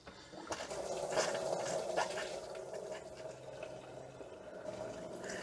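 Coolant drains from a Citroën C6 into a bucket, a faint steady splashing trickle of liquid that swells briefly early on, then continues quietly.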